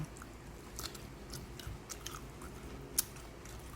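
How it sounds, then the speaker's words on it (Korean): Steamed corn on the cob being chewed up close, soft wet bites and crunchy chewing sounds in quick irregular succession, with one sharper pop, quiet and alone. "이렇게 옥수수를 간이 맞는지 먹어보겠습니다."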